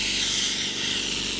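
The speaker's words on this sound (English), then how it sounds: "we turn on the vacuum" Vacuum RF handle of a Velashape third-generation slimming machine switched on, a loud steady airy hiss with a faint low hum beneath, continuous and close.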